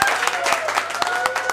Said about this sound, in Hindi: तो एक जोरदार ताली बजाकर स्वागत करिए